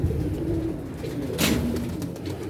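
Pigeons coo in low, throaty repeated calls close by, with a short burst of noise partway through and no talk.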